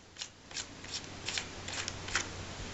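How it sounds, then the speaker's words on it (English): Turrets on a Hawk HD rifle scope being turned by hand: faint, light clicking in small clustered bursts spread across a few seconds, close up and quiet against a soft hiss. "you get a little clicking system. There's no need for a screwdriver."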